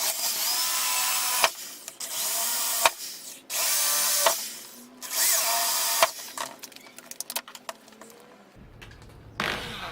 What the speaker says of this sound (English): Now I'm using a 8mm drill bit.